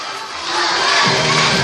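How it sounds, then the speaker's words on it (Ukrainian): Audience in a hall at a children's song contest chanting in unison, a loud crowd of many voices that swells after a quieter start and holds a sustained, rhythmic shout, with children's voices prominent. "Молодець, скандує зал."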